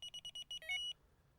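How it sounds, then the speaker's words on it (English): Delkim Rx Plus Pro fishing bite alarm buzzer beeping in a quick series of short electronic tones, then a brief higher warbling rise, heard close and clear against a quiet background. "so just activate the first buzzer"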